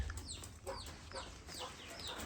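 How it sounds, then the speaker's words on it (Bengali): Chickens in a backyard coop near pigeons, a few soft short clucks in quick succession, faint and close, with no other activity. "আর আমার এখানে মুরগি আছে"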